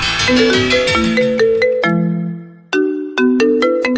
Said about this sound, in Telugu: అమ్మాజీ ఏంటి ఇప్పుడు ఫోన్ చేస్తోంది?